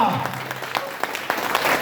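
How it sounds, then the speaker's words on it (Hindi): Loud applause from an audience at a business program gathering, brisk clapping over a short stretch with some voices underneath. "मैं चाहता हूँ जोरदार तालियां।"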